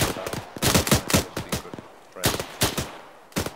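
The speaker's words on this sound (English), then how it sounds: "Suppressive fire, no visual." Suppressive gunfire in the military game Arma 3 rings out as loud, close bursts of rapid automatic shots, broken by short pauses and ending with a final brief burst.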